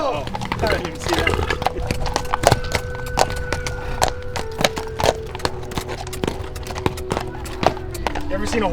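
Horse hooves clip-clop steadily on a street in Compton, close and fairly loud, in a regular rhythm under a constant tonal background.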